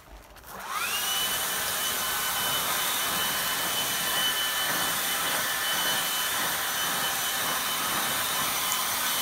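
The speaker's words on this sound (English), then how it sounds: "this doesn't operate at that many fewer CFMs than a comparable gas-powered blower" A Stihl battery-powered leaf blower spins up from quiet into a loud, steady high-pitched whine with rushing airflow, holding at full power with no one speaking.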